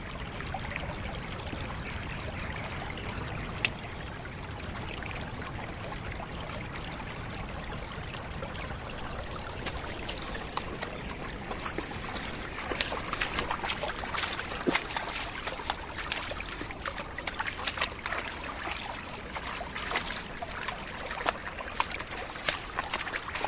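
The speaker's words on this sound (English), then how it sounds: "I think while we're here we should just listen to the water of the burn and the crows that I can hear in the background and the wind." A small Scottish burn near the village of Pathhead, Midlothian, trickles and gurgles softly outdoors, a faint continuous flow with scattered splashes and clicks and light wind around it.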